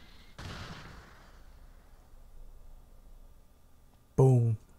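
Special Beam Cannon blast in the video game Dragon Ball Sparking Zero: a sudden loud burst that fades into a long rumbling decay, followed by a brief shout.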